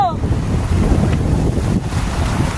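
Waves surge along a private beach strewn with oysters in steady wind, a broad continuous roar with wind buffeting the microphone up close and no clear speech.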